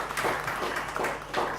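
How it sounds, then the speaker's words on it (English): A brief burst of audience applause fills a book launch event, a dense, steady patter of clapping lasting just a moment. "So can we give him another round of applause"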